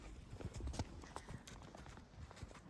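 Horse hooves clip-clop in a steady walking rhythm during an elk hunt ride on a mountain trail near Steamboat Springs, Colorado, close and fairly quiet, with faint outdoor noise.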